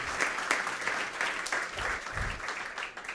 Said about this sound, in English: So applause for Joseph.